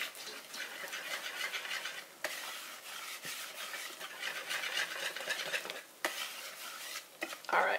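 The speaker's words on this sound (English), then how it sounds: "So we're just going to mix this in." Applesauce and chia seeds are stirred into chai spice pancake batter in a bowl, producing close, continuous wet scraping and swishing strokes with a few brief knocks of the utensil.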